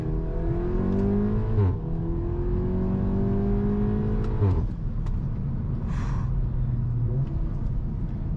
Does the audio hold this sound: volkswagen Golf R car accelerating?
yes